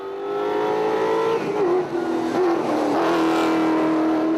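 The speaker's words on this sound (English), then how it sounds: "Toyota dealer principal Fani Erasmus flagged away the first cars." Toyota rally cars revving hard and pulling away from a ceremonial start line at a South African rally, engines loud and close, pitch climbing and dipping through gear changes with a brief tire chirp.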